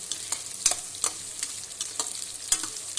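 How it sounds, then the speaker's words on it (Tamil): Chillies and onion being sautéed in a pan for pepper jeera rice, with a steady soft sizzle and light scraping stirs at irregular intervals, close and moderate in level, no talk. "நல்லா வதக்கிக்கணும் நான் மிளகாய் கம்மியாக தான் போட்டிருக்கேன்"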